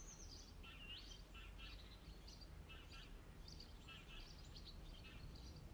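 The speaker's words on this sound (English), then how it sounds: "this song is so quiet, and then I realize that it's just bird noises" Bird song playing quietly within music on a Minecraft One Block Skyblock stream: repeated high chirps and short warbling phrases throughout, soft and steady over a low background hum.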